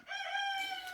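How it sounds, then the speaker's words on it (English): A rooster in a chicken coop gives a single drawn-out, harmonic call, close and fairly loud, with no talking over it. "I'm going to try to talk over this chicken"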